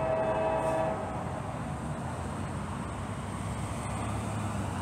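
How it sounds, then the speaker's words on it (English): An auto rack freight train rolls past with a steady, loud rumble and roar that holds evenly throughout, with a brief tonal ring at the very start. "Auto rack train."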